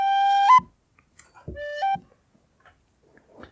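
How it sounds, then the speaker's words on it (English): Two synthesized whistle notes from an imported sample played in an Arturia synth, each a clear sustained tone that jumps upward near its end, separated by faint clicks and near silence. "I've already got my whistle sample."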